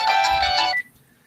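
A phone ringtone plays a bright electronic melody for under a second, loud and close, then cuts off into near silence.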